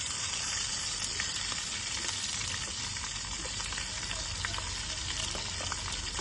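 Onions frying in a pan for pork masala give a steady, dense sizzle that stays loud and even throughout, with no talk over it.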